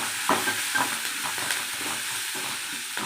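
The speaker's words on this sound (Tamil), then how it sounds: "பெருங்காயம் போட்டாச்சு. நல்லா வதக்கலாம்." Asafoetida sautéing in a pan for lemon rice: a steady soft sizzle of frying with scraping stir strokes and a few sharp clinks of a spoon against the pan, close and continuous.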